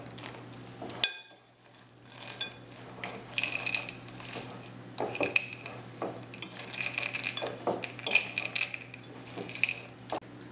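Chocolate chips being stirred into ghee cookie dough in a bowl, with close scraping and clinking of a utensil against the bowl in irregular bursts, no talk.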